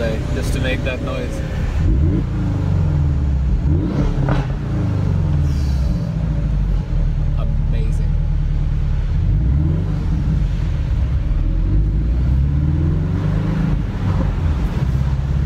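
A Porsche 718 Boxster S engine revs repeatedly, rising and falling in deep rumbling sweeps, loud and close, with a brief spoken exclamation near the start.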